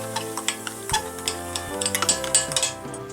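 A spoon stirs bicarb soda into a cup of boiling water, giving a run of quick, close metallic clinks and taps against the cup's sides with no speech.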